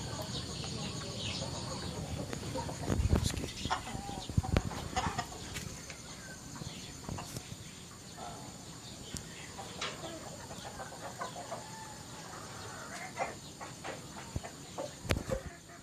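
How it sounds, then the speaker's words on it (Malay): Free-range village chickens cluck and murmur at a moderate distance over a busy outdoor background, with scattered sharper bird calls and no talking. "Ayam bising jadi saya pergi sini"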